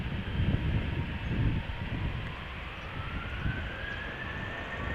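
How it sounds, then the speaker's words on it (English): Delta Air Lines Airbus A350 airliner approaching at Amsterdam Schiphol Airport, a sustained, moderately loud jet rumble and roar with a faint rising whine, steady throughout and free of talk. "something big in the background looks like Delta A350"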